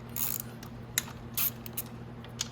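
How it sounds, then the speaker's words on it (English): Ratchet turning out 8 mm bolts on the starter cover of a Venom Grizzly 125cc ATV, giving a few short bursts of close metallic clicking with small knocks between them. "And then you just remove your 8mm bolts."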